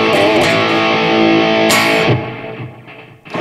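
Overdriven electric guitar through a Valeton GP-200LT multi-effects unit with optimized global EQ, sustained distorted chords with a fresh strum partway through, loud and up close, then fading into a decaying tail before another hit.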